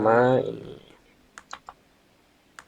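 Several quick, crisp key taps on a computer keyboard follow a short spoken phrase, coming in a small cluster and then one more pair of clicks, close and fairly faint.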